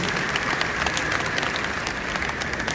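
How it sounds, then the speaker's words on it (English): Dense, steady applause from a conference audience at a bar association event in Enugu State, a continuous wash of many hands clapping, loud and close throughout. "Can we give him a round of applause"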